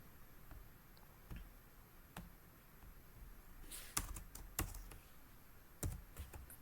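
Keys on a computer keyboard clatter as a contact number is typed, soft irregular taps that build into a few sharper clicks, faint and close, with no one speaking.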